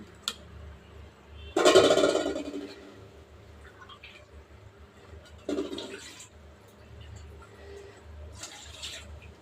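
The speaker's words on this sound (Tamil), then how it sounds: "இதில் இப்போ தண்ணி ஆட் பண்ணிக்கலாம்." Water splashes and pours into a cooking pot in a loud burst, followed by quieter pours a few seconds later, recorded close by.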